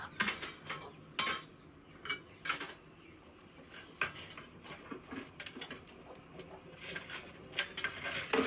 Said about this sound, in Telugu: కాఫీ కలుపుతున్నాను